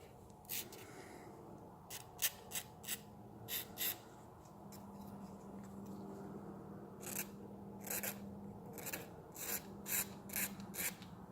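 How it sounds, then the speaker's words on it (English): A burr on a 383 engine part is rubbed down by hand in a series of short scraping, rasping strokes that come in uneven bursts, fairly quiet and close, with no talking. "So, we'll rub that burr down."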